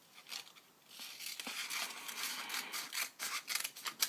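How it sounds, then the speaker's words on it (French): Scissors snip and slice through origami paper in quick, repeated crisp cuts with rustling between them, close and fairly quiet, with no talk. "vous prenez vos ciseaux"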